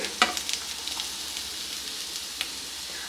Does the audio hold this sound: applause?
no